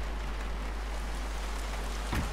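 Heavy rain pours steadily in a horror video game, a dense, even hiss of downpour that stays loud and constant, with a brief thud near the end.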